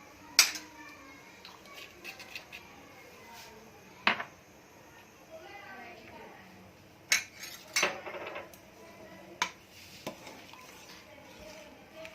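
Spoon stirring food colour into a pot of sweet dessert in a home kitchen, with scattered metallic clinks and scrapes against the pot at irregular intervals over a quiet background.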